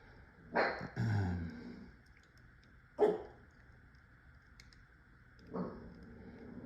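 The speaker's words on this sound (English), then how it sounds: "I hear dogs barking too." A few dog barks at a distance: a double bark near the start, a single one a couple of seconds later, and a fainter one near the end, over steady background hum.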